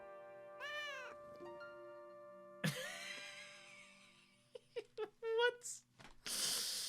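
A kitten in the video game Shadow of Destiny gives several drawn-out, wavering meows, followed by shorter mews and a rustle of noise, heard clearly against a quiet background with a faint hum.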